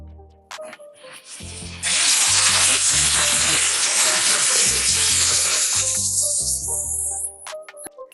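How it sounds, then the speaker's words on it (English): Chicken fries in hot oil in a pot, a loud steady sizzling hiss that swells after the first two seconds and fades near the end, with low background music underneath. "This oil is for frying my chicken."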